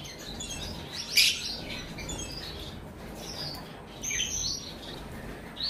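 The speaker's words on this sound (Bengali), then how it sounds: "তো এটা হচ্ছে রেড আইস লুটিনো ফিশার" A red-eye lutino Fischer's lovebird kept indoors gives a few short, shrill chirps and squawks, one sharper call standing out early and softer ones later over quiet room noise.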